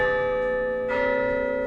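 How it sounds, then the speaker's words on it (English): A bell sound effect rings out loudly with a sustained metallic tone, struck again partway through so the ringing swells and keeps humming to the end, heard alone with no talk. "ring that bell to get notified."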